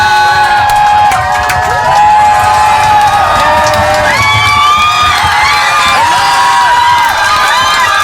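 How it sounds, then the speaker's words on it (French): A large crowd screams and cheers loudly and continuously for Lady Gaga's arrival at a radio station, with high shrieks and whoops rising over the steady roar throughout. "Bon bah là vous entendez des hurlements."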